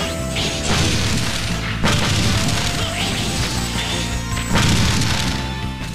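Repeated booming missile explosions in Megaman X5, loud and dense, with several heavy blasts rolling over one another amid game music and effects.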